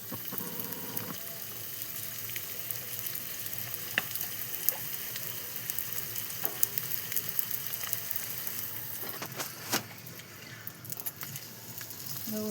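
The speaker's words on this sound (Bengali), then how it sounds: "এবার চাটু গরম হয়ে গেছে, তেলটা দিয়ে দেব। মোগলাইটা দিয়ে দেবো।" A Mughlai paratha frying in oil on a hot griddle, a steady close hiss and sizzle with occasional sharp spatters and light clinks of a turner.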